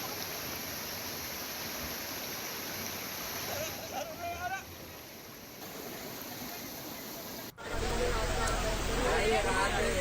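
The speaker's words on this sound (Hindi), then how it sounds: "पानी की इस रफ्तार को देखकर हर कोई हैरान है।" Fast-flowing floodwater in the Devpur area of Rajasthan rushes with a continuous broad roar, close and loud, while people's voices murmur nearby; the roar jumps louder after an abrupt cut.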